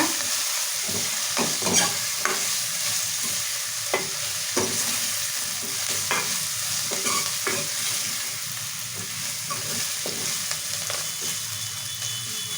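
Ginger frying in hot oil for a lentil and drumstick stew, a constant crackling sizzle overlaid with repeated scraping taps of a spoon stirring the pan, close and fairly loud throughout.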